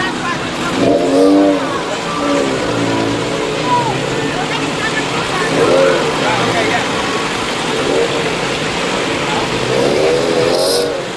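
Rally cars drive and idle at a Pennine Group rally at Fitzwilliam as they are parked up, with steady engine drone and a few rising revs beneath ongoing nearby talk.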